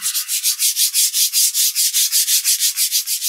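Wet sanding a spray-painted guitar body by hand with 2500 grit sandpaper, a close, steady rhythm of about sixteen soft back-and-forth swishes with no speech.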